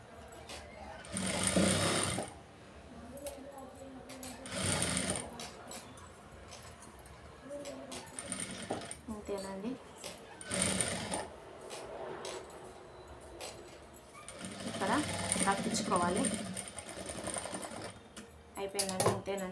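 A sewing machine stitches a two-in-one blouse in several whirring, rattling bursts of a few seconds each, close and steady, with quieter gaps where a voice speaks briefly.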